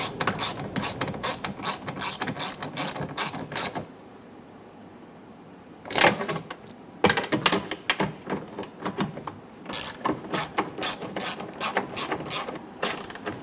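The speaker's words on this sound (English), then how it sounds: "Snug down the nuts for the glass." A ratchet tightens the nuts holding the rear window glass to the regulator in a 2014-2018 Chevrolet Silverado door, sounding as loud, rapid, close clicking bursts separated by brief pauses.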